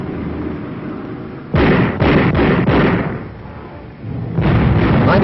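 Field artillery battalion guns firing in World War II: heavy, booming blasts in quick succession that roll out into rumbling echoes, loud and punchy, with a pause and then another powerful round, no voices.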